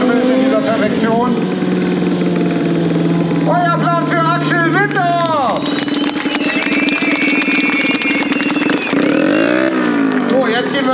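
A stunt motorcycle spins donuts at a Kawasaki event in Speyer. The engine drones steadily, then rises and falls in revving sweeps with tire and exhaust noise, and a crowd and announcer are heard throughout.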